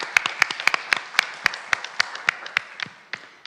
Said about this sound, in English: We should give a round of applause to Joy.